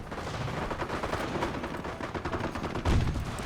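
Gunfire in a World War II tank battle video game with a 105 Sherman and a Bren carrier, a dense stretch of rapid shots and booming blasts at moderate loudness, with a heavier impact near the end.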